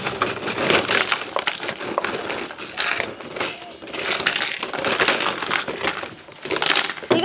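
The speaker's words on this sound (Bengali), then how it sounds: "ঢেলে ফেলো সব খেলনাগুলো" Heap of toys poured out onto the floor, a clattering, crunching jumble of plastic pieces tumbling and knocking together for several seconds while voices talk over it.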